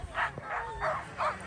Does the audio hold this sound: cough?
no